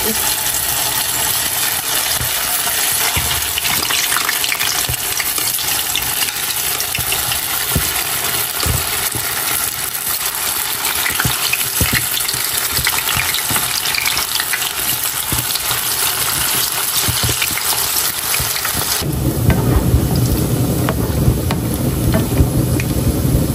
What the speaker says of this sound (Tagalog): bali magpiprito na po tayo. Isa-isa na natin ihuhulog